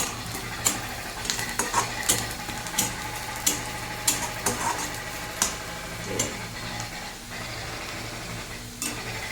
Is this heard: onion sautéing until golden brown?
yes